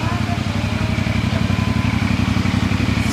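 A CF Moto 450 NK motorcycle idles close by with a steady, pulsing thrum while its radiator fan whirs, and someone talks over the engine.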